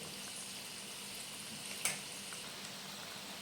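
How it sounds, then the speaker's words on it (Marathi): Bread rolls frying gently in oil over a low flame, giving a faint, steady hiss throughout with one brief pop partway through. "बारीक गॅसवर आपल्याला चांगलं तळून घ्यायचं आहे"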